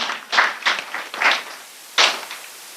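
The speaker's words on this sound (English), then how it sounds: "Round of applause to him." An audience at a youth climate summit and festival applauds in several short bursts of clapping, each surge rising and falling with brief lulls between them.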